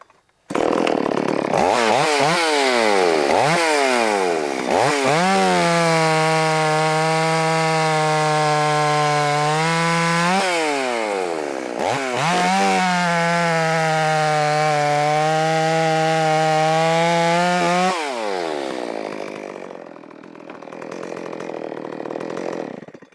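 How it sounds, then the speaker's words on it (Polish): Powerful chainsaw fitted with a professional GB guide bar and an aggressive chain cuts through wood, revving up loud and close in two long sustained cuts with short idles between, winding down at the end. "Łańcuch agresywny, prowadnica dobra, pilarka mocna."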